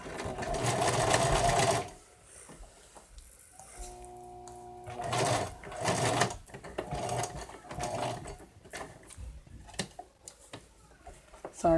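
A sewing machine stitches a stuffed bear in short bursts, loud and close, with mechanical clicking and ratcheting in the pauses between runs.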